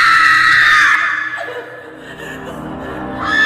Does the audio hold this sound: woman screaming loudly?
yes